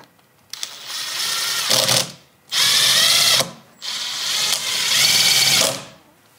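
A power drill drives 1.5-inch Phillips screws into a door bolt in three separate bursts, each a loud whirring, ratcheting run with brief pauses between, heard close up and alone.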